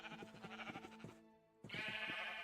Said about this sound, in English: All the sheep are naked now.